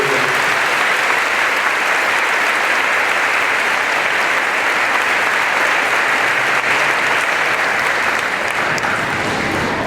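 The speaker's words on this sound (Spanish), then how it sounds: "Denle un aplauso al Señor." Loud, sustained applause from a large congregation at a charismatic Catholic gathering, dense, continuous clapping that fills the whole stretch without a break.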